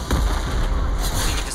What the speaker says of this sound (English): Yeah, I'm being shot at.